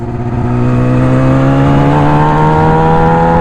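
A Yamaha YZF R6 motorcycle accelerating hard in second gear, its engine note rising smoothly and loudly from start to finish as the revs climb, heard from the rider's position with no pauses.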